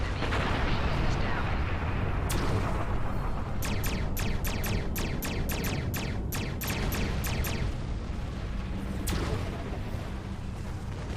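Torpedoes fire in Star Trek Online, a rapid run of sharp launch cracks packed into a few seconds, over a constant rumbling battle bed with voices speaking.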